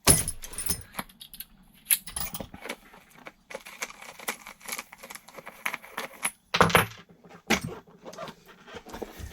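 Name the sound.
wrench removing RC car wheel with 17mm hex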